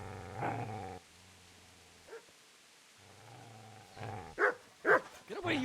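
A dog growls low and then barks in a medieval setting in the game Kingdom Come Deliverance, with a rumbling growl first, a pause and then several sharp barks close by, without talk.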